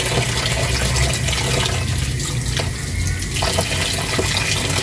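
Laundry being hand-washed under a running tap, with a steady rush of water splashing continuously and close by throughout, with no talking.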